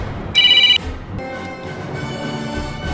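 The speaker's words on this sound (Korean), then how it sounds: "전화가 좀 왔어." A telephone rings with a short, loud electronic ring tone burst near the start, then stops, leaving room noise and a faint background hum for the rest of the moment.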